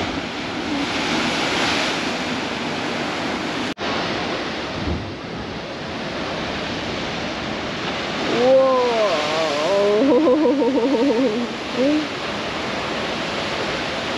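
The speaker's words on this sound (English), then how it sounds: "The waves are crazy." Ocean surf crashes and roars continuously along the coast of Nusa Penida, Bali, under heavy wind buffeting on the microphone, with a person's voice briefly rising over the rush near the end.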